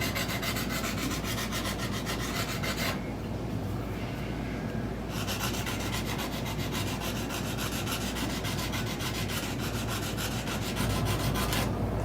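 A wooden guitar body for a G&L Bluesboy is sanded by hand in continuous, loud, close rasping strokes, with a brief lull partway through before the steady rubbing resumes.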